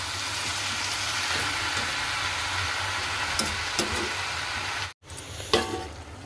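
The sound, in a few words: cabbage and potato curry sizzling in a pan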